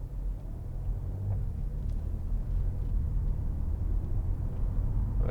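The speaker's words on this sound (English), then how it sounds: "beautiful engine sound." An Audi S4 Avant 3.0 TFSI V6 with S tronic gearbox and about 89,700 miles gives a steady low rumble while driving, heard from inside the cabin at moderate level with no talk.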